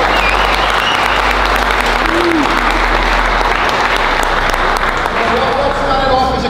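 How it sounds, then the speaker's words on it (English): A gym crowd claps steadily and loudly throughout, a dense continuous wash of applause with a little cheering mixed in. "round of applause. Let's go."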